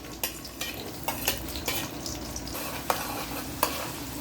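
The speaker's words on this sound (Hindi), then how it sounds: "इसको मीडियम फ्लेम पे हम फ्राई करेंगे 5 मिनट्स तक" Sliced onions and cumin seeds fry in half a cup of cooking oil over a medium flame for dhaba-style chana dal, a steady close sizzle broken by regular scrapes and clinks of a spoon stirring the pan.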